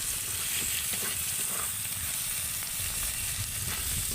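Onion frying with garlic and ginger paste makes a dense, continuous sizzle and hiss, close and fairly loud, with no one speaking over it.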